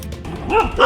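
A dog barks nearby outdoors in Thailand. One loud, close bark with a rising, yelping tone rings out, followed quickly by the start of another.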